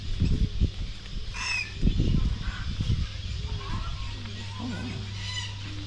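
A bird at Australia Zoo gives a few honking, clucking calls close by, mixed in with people talking and ambient crowd noise.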